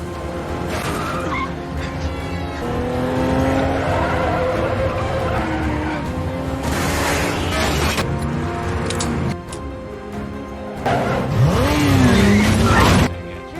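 Cars in a movie car chase screech and skid, tires squealing in long bursts over roaring, revving engines and crashes, loud and sustained throughout.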